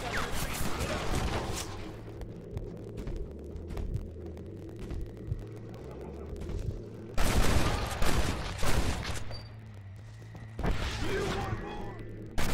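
Gunfire in the Western video game Red Dead Redemption, with shots and bursts over a steady low game hum and loud clusters at intervals, while players talk over it.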